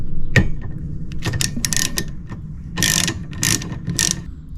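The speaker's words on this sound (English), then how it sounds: "and then it's just a case of undoing these 13mm nuts." Close ratchet clicks as a socket undoes the 13mm wiper arm nuts on a Fiat 500, in short separate bursts of rapid clicking with a sharp knock near the start.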